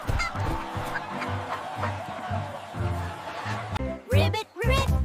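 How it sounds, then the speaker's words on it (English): A cartoon chicken clucks in honking, bouncy bursts from an animated animal parade for kids, with light playful chuckling and crowd-like sounds mixed in. "Look, chicken is clucking along."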